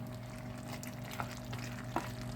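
Onions and small diced tomatoes frying with beef neck in a pot with no water added, making a faint steady sizzle and two soft stirring clinks.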